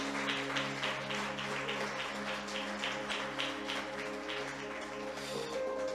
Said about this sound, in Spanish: un fuerte aplauso para Cristo,